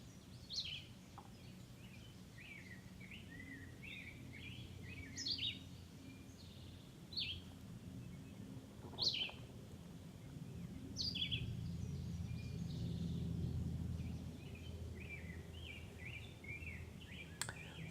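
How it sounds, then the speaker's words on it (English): Migrating birds sing along the Appalachian Trail, with scattered chirps and short trills coming from several directions over a steady low outdoor rumble, and no voices. "The bird sounds were remarkable"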